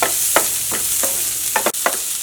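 A broccoli mixture is stirred in a hot pan, with about six or seven evenly spaced scraping strokes over a steady frying sizzle, close and fairly loud, with no voices.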